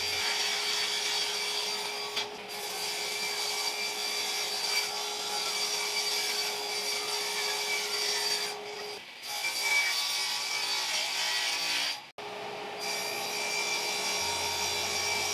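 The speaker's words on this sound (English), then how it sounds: "I then took them over to my table saw to cut them to their final dimensions." A table saw cuts plywood sheets with a sustained buzzing whine that continues for long stretches. Short breaks and a sharp dropout interrupt it, and no one speaks.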